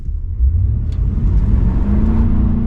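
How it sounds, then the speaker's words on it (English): The big V8 of a 2026 Ford F-250 STX 4x4 pickup revs up and accelerates hard, a deep loud rumble with rising pitch as the truck gathers speed. "this big V8 just gets this vehicle up to speed"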